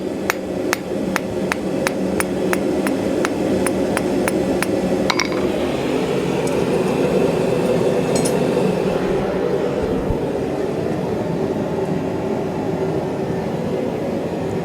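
Hammer blows ring out on Damascus steel being forged, a quick run of sharp metallic strikes at the start followed by a few scattered hits over a steady background roar from the forge.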